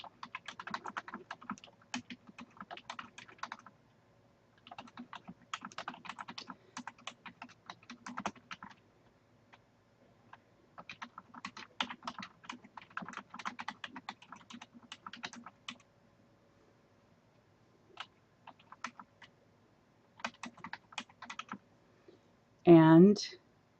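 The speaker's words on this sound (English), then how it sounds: "all I have to do is type right here" Someone types a message on a computer keyboard: bursts of rapid, close key clicks with pauses in between, and a short voice cuts in at the very end.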